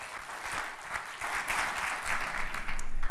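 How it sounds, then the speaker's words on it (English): Audience applause fills a lecture hall at a talk about youth as agents of positive change, a steady dense clatter of many hands clapping that swells slightly toward the end, with no voices over it. "I didn't plan for applause when I was practicing this."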